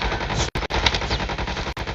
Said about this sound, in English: There's just a lot of gunshots right now happening.